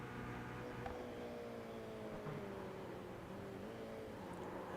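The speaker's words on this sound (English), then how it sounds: "I'm just going to listen to your throttle as well." A Toyota GR86 race engine runs under throttle at Oschersleben, a steady, faint, muffled drone with a slowly shifting pitch beneath a constant hiss of road and wind noise.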